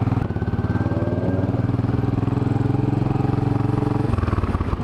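Steady, loud engine rumble from a Royal Enfield Classic 500 motorcycle, holding a constant thumping note close by before a slight change in tone near the end, with no talking.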